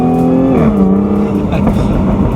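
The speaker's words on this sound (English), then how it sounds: "that adaptive exhaust system you can hear under me absolutely screaming" A Jaguar F-Type S's adaptive exhaust roars loudly as the engine revs, its pitch shifting and dropping, with someone talking over it.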